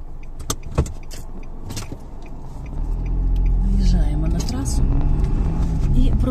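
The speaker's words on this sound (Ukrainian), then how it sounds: "Ну і так продовжуємо їхати." A car drives along the road, its low engine and tyre rumble building from quiet to a steady close drone, with a few clicks and rattles inside the cabin early on.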